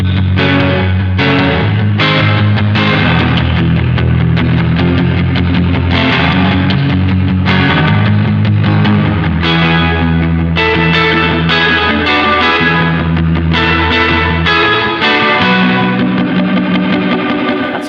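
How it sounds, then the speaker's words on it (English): Distorted guitar chords ring out with a deep, layered hall reverb from a digital reverb pedal, each strum washing into a long, spacious tail. "Really nice layered deep sounding reverb to me."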